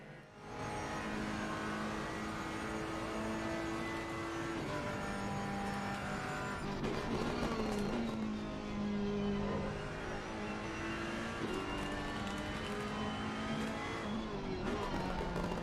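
GT3 race cars roar around a circuit in a racing video game, with loud, sustained engine whine rising and falling through gear changes and several cars overlapping close together.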